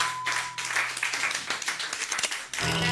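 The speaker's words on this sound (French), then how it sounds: "Mais nous allons aussi applaudir Monsieur Stan." A small studio audience claps for a guest on a French television show, a short, uneven burst of hand claps over a low hum, fairly quiet and close.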